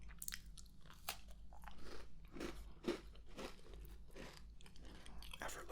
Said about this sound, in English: The perfect crunch, an immediate sweetness that complements the tea.